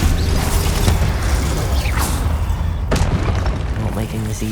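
A Confringo spell fired in the video game Hogwarts Legacy sets off loud booming blasts and a sharp crack, dense with game effects and mechanical clatter under a speaking voice.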